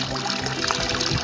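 Water trickles and splashes from a dragon-shaped fountain, a brief continuous burbling with no clear talk over it.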